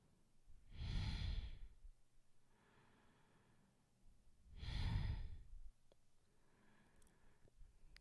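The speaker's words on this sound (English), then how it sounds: "Powerful breaths through your nose." Two forceful, drawn-out breaths through the nose during a Kundalini yoga kriya, each a loud rushing exhale followed by a softer inhale, spaced about four seconds apart in a quiet room.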